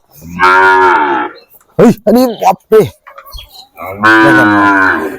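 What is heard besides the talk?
Sahiwal cattle mooing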